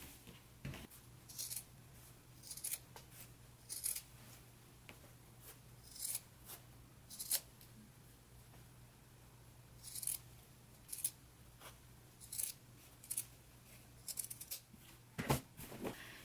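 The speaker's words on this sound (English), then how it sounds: "Now I'm going to go ahead and trim that seam down just a little, and then I will clip into the curves" Fabric scissors snip repeatedly while trimming and clipping a seam allowance on a sewing project, sharp brief cuts in irregular bursts over a low steady hum, close and fairly quiet.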